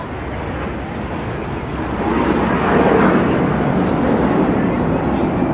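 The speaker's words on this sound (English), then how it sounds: "when they hear a plane going overhead" A plane passes overhead in a city setting in Toronto, a steady broadband roar that swells in the middle and holds, heard outdoors beneath a live stream with a voice over it.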